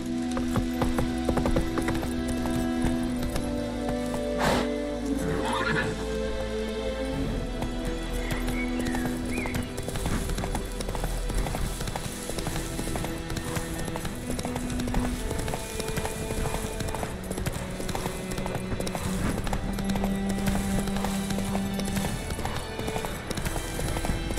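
Geralt's horse Roach in The Witcher 3 gallops steadily with a continuous clip-clop of hooves, a brief whinny early on, and a game soundtrack and ambience running underneath throughout.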